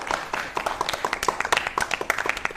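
An audience claps for a young boy reciting the Bhagavad Gita, giving a brisk, uneven patter of many hands that stays close and lively throughout.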